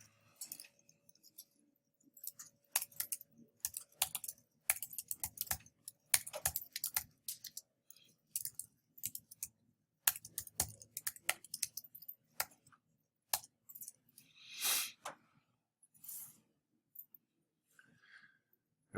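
Code being typed on a computer keyboard: bursts of quick, close key clicks with short pauses between runs, faint and dry with no talking.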